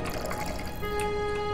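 Water running from a water cooler in the PC game Yuppie Psycho, a short steady trickling fill with a rising tone as the cup fills, heard close and fairly quiet.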